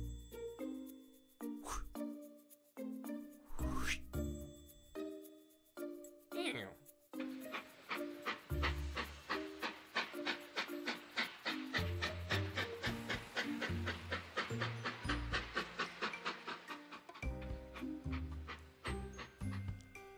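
A train chugs in a steady, rhythmic puffing beat that picks up after a few seconds, with tonal musical notes layered over it.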